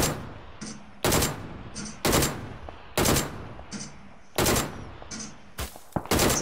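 Video game gunfire in PUBG. Sharp, loud shots come in a fairly regular rhythm of about one per second, some as short double bursts, with a quieter echoing tail between them and no speech.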